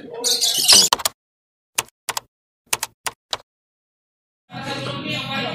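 A competition lovebird lets out a dense burst of harsh, rapid chirping, then a few sharp isolated clicks and a pause, before the scratchy chirping resumes steadily nearby.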